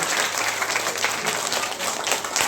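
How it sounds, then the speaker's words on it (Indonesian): Sustained audience applause at an elementary school health and anti-bullying celebration, a dense, steady wash of many hands clapping together at a fairly close range, with no voices over it. "Kalau mau tepuk tangan jangan tanggung-tanggung, tepuk tangan sekalian lah."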